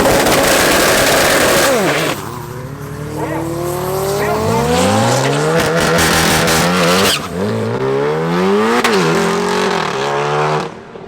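Two nine-second drag race cars launching side by side at Tarlton International Raceway during an MSA regional round, loud engines roaring and rising in pitch through the gears for about eleven seconds, close and continuous with no talk over them.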